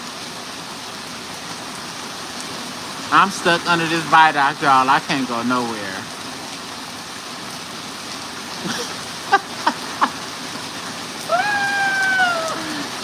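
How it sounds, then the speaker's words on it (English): Heavy rain pours down around a viaduct, a steady, loud hiss that fills the whole span while someone talks over it in short stretches. "As soon as I said something, it started raining harder."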